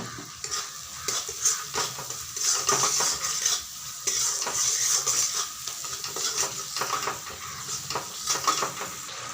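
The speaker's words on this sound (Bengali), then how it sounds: "গ্যাসের আঁচ কমিয়ে দিয়ে খুব ভালো করে মশলাগুলোকে কষাতে হবে" Spices with turmeric, chili powder and salt are sautéed over low heat in a pan for a rohu fish curry, a soft sizzle under repeated scraping and clinking of a metal spatula.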